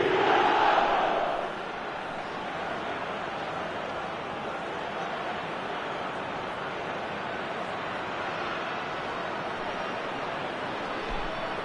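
Stadium crowd in the eFootball 2025 football game roars loudly for the first second and a half, then settles into a steady, dense wash of cheering and chanting that continues throughout.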